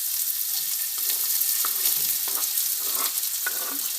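Onions sauteing with potatoes in a frying pan, an even crackling sizzle with a few clinks and scrapes of a utensil stirring, close and clear without voices.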